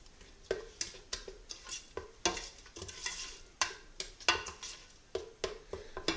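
Spices stirred into Moroccan harira soup in a pot, a regular series of close scraping, clinking spoon strokes over a faint simmer, with no voices.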